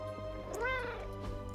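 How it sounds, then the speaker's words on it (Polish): Agatha's cat in the video game Marvel's Midnight Suns lets out a single drawn-out meow, rising and falling, set against a steady ambient game background hum. "O, słyszę kota od Agaty."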